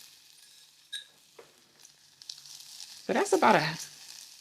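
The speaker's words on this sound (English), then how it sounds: "just coating the bottom of the pan with the lentils" Lentils sizzling in a hot pan while being stirred, a quiet crackle that swells into a louder burst of frying and scraping near the end, with a voice talking briefly.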